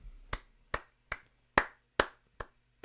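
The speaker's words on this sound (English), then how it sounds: "Genuine applause." Seven slow, evenly spaced single hand claps sound near and crisp, each a sharp isolated smack with silence between, like deliberate sarcastic applause from one person.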